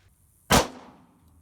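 A single sharp, loud report rings out as a 1944 German 9mm cartridge is fired outdoors, with a sudden crack followed by a brief fading echo and no voices.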